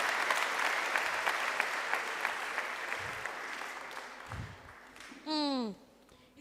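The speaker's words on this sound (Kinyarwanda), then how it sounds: "Tuyikomera amashyi menshi n'Imana yo kwizera." A church congregation applauding, dense steady clapping from a large crowd that gradually fades over several seconds, followed by a short sung or spoken tone at the end.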